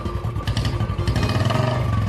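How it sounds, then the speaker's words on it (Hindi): A Bullet motorcycle passing by outside, heard as a loud, close, thumping engine rumble with rhythmic pulses and some rattle, sustained across the whole short stretch. "बाहर से एक बुलेट बाइक जाने का आवाज आया।"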